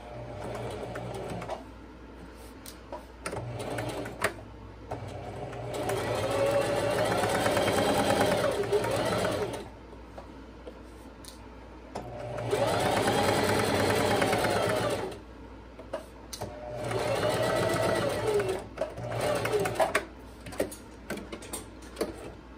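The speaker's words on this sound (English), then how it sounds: "Machine's getting a little jammed just because I really need to rewind my bobbin." Sewing machine stitching a princess bodice seam in three long running bursts separated by pauses, with a slightly jamming bobbin that needs rewinding, steady whirring and clatter up close.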